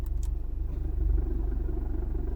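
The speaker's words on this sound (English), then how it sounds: "the aftermarket clutch does make a little bit of a clutch chatter" Hyundai Genesis coupe idling with a slight aftermarket-clutch chatter, a steady low rattling pulse under the engine rumble, close and continuous for a couple of seconds.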